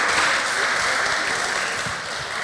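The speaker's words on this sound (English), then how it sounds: "Let's give another round of applause to welcome Mr." A seminar audience at a fashion summit gives sustained, dense applause to welcome a speaker, steady and full throughout.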